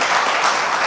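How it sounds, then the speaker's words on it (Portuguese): Church congregation applauding together, a dense, steady wash of many hands clapping at once, filling the space evenly and briefly. "Você pode aplaudir Jesus?"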